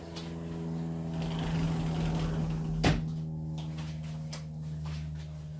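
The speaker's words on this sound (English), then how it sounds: "I'm going to shut the door." A door thuds shut once over a steady electrical hum and low droning background noise, with no voices.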